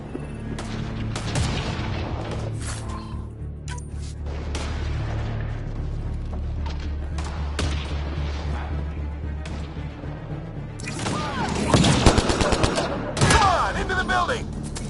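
Enemy gunfire in the sci-fi shooter Mass Effect Andromeda, with steady rattling bursts over a low rumbling backdrop that grow louder and denser toward the end, mixed with loud impacts.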